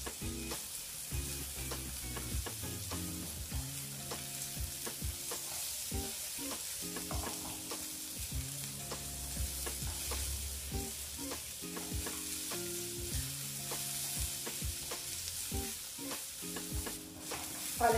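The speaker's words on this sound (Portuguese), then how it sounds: "Vou deixar refogar bem a cebola e dourar bem o alho." Onion and garlic sauté in a pan, a steady broadband sizzle with occasional stirring clicks running under background music with stepped tonal notes, and no talking.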